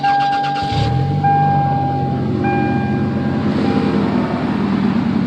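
A car engine, probably the 1996 Toyota Camry, cranks and catches after a no-start repair in a mini-mall parking lot. It settles into a loud, steady idle hum up close, with a tonal whine fading underneath.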